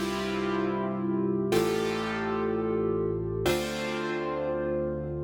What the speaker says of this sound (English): So this is just an instance of Diva playing some fairly hefty chords.